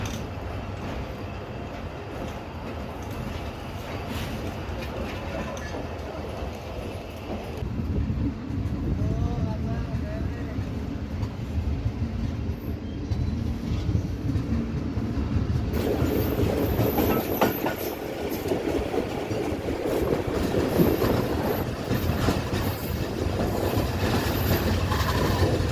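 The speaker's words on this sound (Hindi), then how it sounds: "Thirty four down park express arrival." The 34 Down Pak Business Express train arrives at a Pakistani station, its wheels rumbling and clattering louder as it comes in, with squeals and rail noise. People talk and station bustle builds around it.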